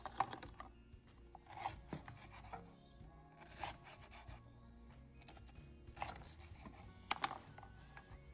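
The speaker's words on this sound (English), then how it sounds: "Slice up some fresh ginger" Fresh ginger sliced with a knife for Jamaican curry chicken, a series of soft, close cutting and rubbing strokes on a board in an uneven rhythm, fairly quiet with a low background hum.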